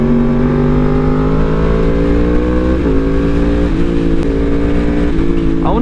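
A Yamaha R1 sport motorcycle rides through canyon roads, its loud, close engine droning steadily and shifting pitch with brief dips as the rider works the throttle and gears.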